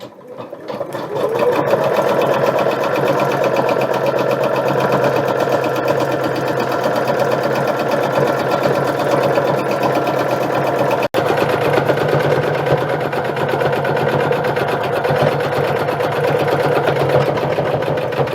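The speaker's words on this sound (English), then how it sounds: "now we can go ahead and start to embroider" A Janome embroidery machine stitching a lemon design runs continuously with a loud, even, rapid mechanical whir and needle chatter, close up, with a brief split-second break partway through and no talking.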